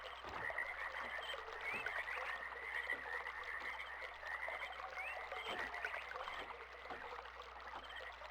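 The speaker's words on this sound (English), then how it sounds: "Well, you can hear the frogs," Frogs croak in a steady, chirping chorus in the Myst video game, layered over a constant low ambient drone of water and wind, moderately quiet with no talking.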